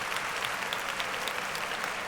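Steady applause from a small group, a dense patter of clapping hands held at an even level for about two seconds with no voices on top.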